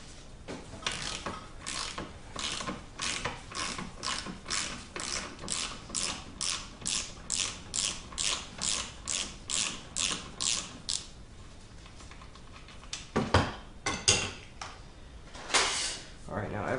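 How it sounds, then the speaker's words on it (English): A ratchet wrench backs a bolt out of a Jeep transfer case, its rapid clicking coming in a steady run of about twenty close strokes, then a pause and a few more scattered clicks. "I'm going to take this bolt back out."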